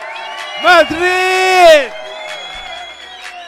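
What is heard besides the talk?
crowd cheering and applauding at live DJ show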